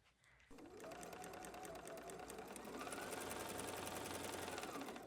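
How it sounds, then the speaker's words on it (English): Sewing machine stitching the seam of a quilt block, a close steady rapid mechanical whirring that starts after a brief quiet moment and runs on continuously without talk. "Definitely going to sew from this side because the seam is going down."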